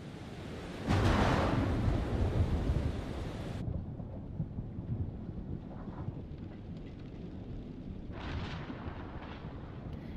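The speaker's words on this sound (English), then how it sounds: "You know, I love thunderstorms." Thunderstorm in the video game Man of Medan: a deep rolling thunderclap breaks early and fades into a low, windy storm rumble, with a fainter gust or crackle later on. No one speaks.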